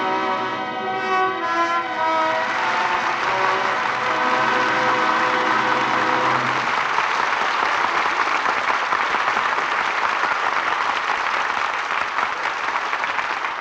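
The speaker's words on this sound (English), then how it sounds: "Well-deserved applause for an exciting performance by our two stars, Alan Ladd and Veronica Lake." Studio audience applause at the close of a Lux Radio Theatre broadcast, a dense sustained clapping that rises under a final fading musical chord and continues alone, loud and even, for several seconds.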